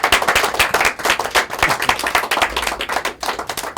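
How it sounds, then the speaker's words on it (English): Audience applause for a volunteer at a mentalism show, dense irregular clapping from a crowd close by that holds steady for the whole stretch, sharp individual claps standing out. "I would ask you to come and join me with a big round of applause for him."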